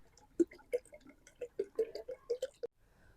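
Cow urine is poured into a container of water to make leaf compost, giving a series of faint, separate drips and small splashes at an uneven rhythm, with no talking.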